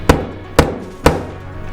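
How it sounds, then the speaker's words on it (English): Three hard, sharp hammer strikes on a durable material, spaced about half a second apart, loud and close, each with a quick decay and no talking. "we're really gonna put it to the test with our good old trusty steed, the hammer"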